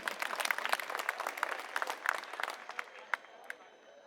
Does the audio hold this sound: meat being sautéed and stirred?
no